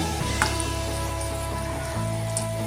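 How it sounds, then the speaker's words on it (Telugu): Curry leaves and onions sizzle in hot oil for a thotakura (amaranth leaf) fry: a steady, close, dense crackle that runs throughout with no voices. "కొంచెం వేగాక కరివేపాకు యాడ్ చేసుకోవాలి"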